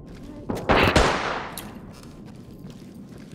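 Gunfire in the tactical shooter Ready or Not: a short loud burst of several close shots around the one-second mark, then a decaying echo and a few fainter trailing bangs.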